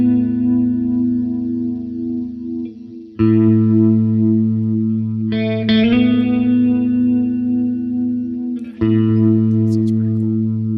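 A sustained instrument sounds through an amp and pedal effects, heavy with distortion, chorus-like shimmer and echo. Low tones ring continuously, and sharp attacks restart the sound at a few points across the passage.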